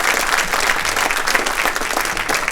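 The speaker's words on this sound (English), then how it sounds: "can I have a round of applause for all these 4 teams" A dense burst of clapping from a sizable audience, steady and enthusiastic throughout.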